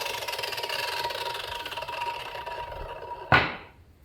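An Ozito 10-inch drop saw's electric motor hums steadily, then gives a sudden sharp burst as the motor brake engages, followed by a fast decay into quiet.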